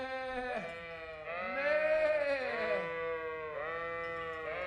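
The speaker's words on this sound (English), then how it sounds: "Are we supposed to just be following sheep now?" Sheep bleating in the video game Kingdom Come: Deliverance, a few drawn-out wavering bleats that follow one another closely, clear and near, with no speech.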